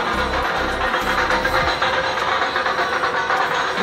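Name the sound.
train arriving at station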